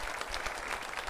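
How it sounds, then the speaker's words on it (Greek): A quiz show studio audience applauds in a brief burst, many hands clapping densely and evenly at moderate volume. "Πάμε για ένα χειροκρότημα από το καταπληκτικό μας κοινό."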